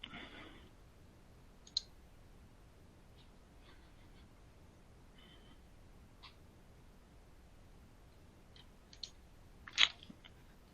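Computer mouse clicking at a desk, a few sparse, sharp, faint clicks spread over ten quiet seconds, with a small cluster of clicks near the end.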